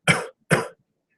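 Two short, sharp coughs in quick succession, close and clear, followed by silence.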